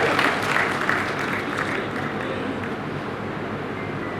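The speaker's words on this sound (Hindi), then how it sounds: "जोरदार तालियों से।" Dense, continuous clapping fills the hall at a 101st birth anniversary celebration for Thakur Bir Singh in Bhiwani. It holds as an even roar, slightly stronger at the start.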